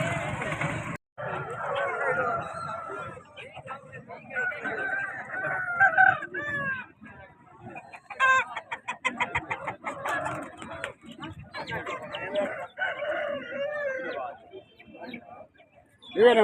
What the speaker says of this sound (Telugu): ఇక్కడ మంచి మంచి కోళ్ళు వచ్చినాయి